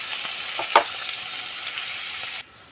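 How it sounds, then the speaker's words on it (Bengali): Onion fries in white oil with nigella seeds in a wok, giving a steady hiss with a few brief stirring scrapes before the sizzle cuts off. "কালো জিরে দেওয়ার পরে এখানে আমি পেঁয়াজটাকে একটু ভেজে নেবো"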